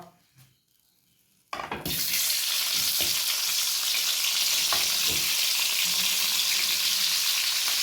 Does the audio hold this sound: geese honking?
no